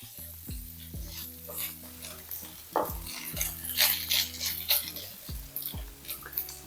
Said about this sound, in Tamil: ஒரு ஒன்றரை கைப்பிடி அளவுக்கு தேங்காய் துருவல் இதையும் சேர்த்துக்கலாம் ரெண்டும் ஒன்றா சேர்த்து நம்ம வந்து வறுத்துக்கலாம்